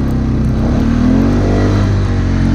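A four-wheeler ATV engine revs hard and loud up a snowy two-wheel-drive hill climb, a close, steady roar with a rising pitch and no voices over it.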